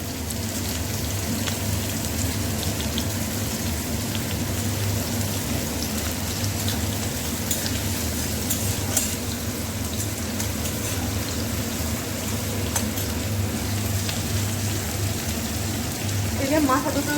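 Nigella seeds and chopped onion frying in a wok after fish, a dense, even crackling sizzle that holds steadily throughout at moderate loudness, with no one speaking.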